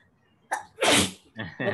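A single sharp sneeze bursts out close to the microphone, with a short breathy intake before it and brief vocal sounds after, during an online Quran recitation lesson.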